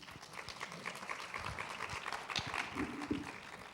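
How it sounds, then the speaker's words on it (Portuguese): A seminar audience at a children's rights convention event applauds a judge, a moderate, steady patter of clapping through the whole stretch with a few sharper claps standing out. "uma salva de palmas para o juiz Felipe Levi"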